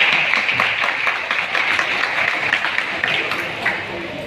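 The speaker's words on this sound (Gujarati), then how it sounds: "તાળી પડે આપો" Audience applause at a Kshatriya Rajput community gathering, dense continuous clapping from a crowd, loud and steady for a few seconds.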